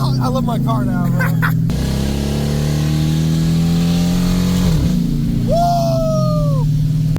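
Close-up idle of a Dodge Challenger with modified exhaust, a steady low rumble that dips and recovers once, with brief voices at the start and a short whistle-like tone near the end.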